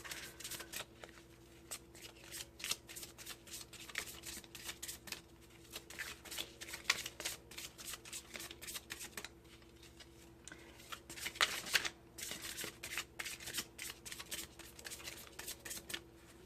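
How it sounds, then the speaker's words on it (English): Tarot cards being shuffled over and over, a soft papery riffling and slapping in steady bursts, close by with no talking. "I'm gonna have to get used to the shuffle."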